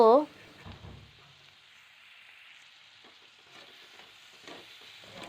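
Chopped tomatoes stirred in a frying pan with salt while cooking Bengali prawn and taro root curry, a steady soft sizzle with light scraping of the spoon, close and moderate, after a brief knock at the start.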